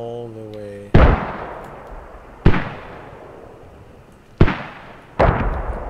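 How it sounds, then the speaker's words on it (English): Mortar shells land in the video game Squad, with four heavy booming impacts spaced a second or two apart, each followed by a rumbling decay. A brief tone comes just before the first blast. "we're getting some mortars in there"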